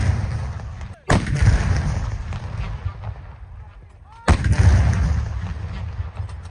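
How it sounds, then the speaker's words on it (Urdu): Two booming cannon shots of a 21-gun artillery salute marking Pakistan's Independence Day, each a sharp loud blast followed by a long rolling echo, with crowd and ambient noise in between. "دن کا آغاز 21 توپوں کی سلامی سے ہوا"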